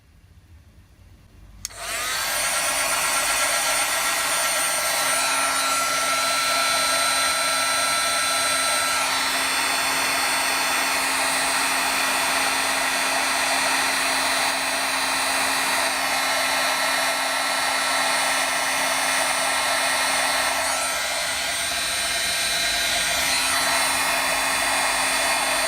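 A heat tool switches on abruptly and blows a loud, steady whooshing roar while heat setting embossing on a Christmas paper craft project, running continuously with slight shifts in tone.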